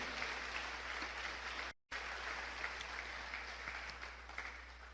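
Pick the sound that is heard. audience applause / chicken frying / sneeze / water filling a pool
audience applause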